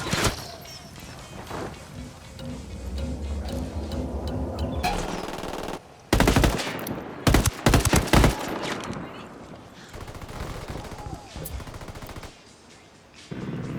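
Rapid bursts of automatic gunfire in Ghost Recon Wildlands, loud rattling volleys that cut out suddenly, then sharp repeated shots and scattered fire trailing off, with no talk over it.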